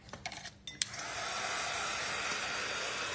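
A hair dryer runs steadily at close range, drying a freshly wiped DIY shabby chic bird house with a spindle base, after a few brief clinks and taps at the start.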